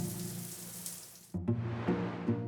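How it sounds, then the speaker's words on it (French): Water running from a drinking-water tap in a household plumbing setup: a hissing stream that cuts off briefly and then resumes with gurgling spurts, close and fairly loud, with no talk. "Laissez couler l'eau avant usage durant 5 secondes au robinet de puisage"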